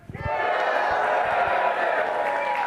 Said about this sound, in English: can I hear the live people cheer?